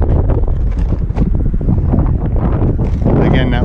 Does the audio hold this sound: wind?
yes